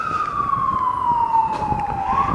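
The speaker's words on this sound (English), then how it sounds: "What do you think to do when you hear a siren?" A wailing emergency siren sweeps steadily downward in pitch, loud and continuous, over a low rumble of traffic.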